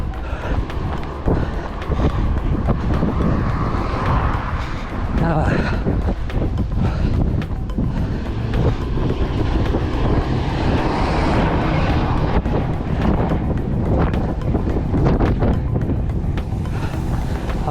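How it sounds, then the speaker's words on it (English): Heavy wind, gusting around 25 to 37 mph, roars steadily against the microphone during an outdoor run beside the water, loud and unbroken for the whole stretch, with faint breathing or voice sounds buried beneath. "this wind's tough"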